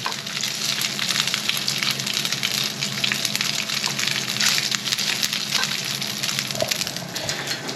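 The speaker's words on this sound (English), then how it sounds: "Just going to chuck all these into the pan there." Pieces of coral trout fry in a hot pan with a loud, dense, continuous sizzle and crackle, close up, lasting throughout with no speech.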